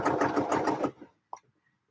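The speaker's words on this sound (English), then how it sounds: "this is the actual top stitching that I'm doing now that's going to be visible. I'm doing it with my edge stitch foot" A sewing machine runs a short burst of top stitching along a pocket with an edge stitch foot, a steady close whirring pulse that stops abruptly, followed by a brief click and near silence.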